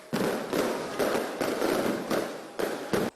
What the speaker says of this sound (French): l'explosion de joie à travers 40 feux d'artifice